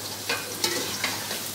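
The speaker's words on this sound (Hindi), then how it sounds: "प्याज लाल करते हैं, इसको भून के इसको ग्राइंड कर लेते हैं।" Onions fry in a pan while being stirred, a steady close sizzle broken by a few short scraping stirs, with no talking.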